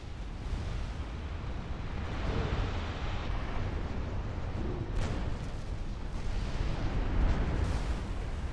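Naval gunfire from a warship battle in a strategy game lands on the ship Casabianca, a continuous rumbling barrage of booms and explosions rolling together without pause, loud and dense, with no voices over it.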